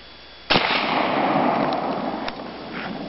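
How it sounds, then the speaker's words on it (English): A shotgun fires buckshot into a CRT monitor: one sharp, loud blast followed by a long ringing, crackling wash of debris, with a second smaller crack partway through. "Shoot a monitor with buckshot."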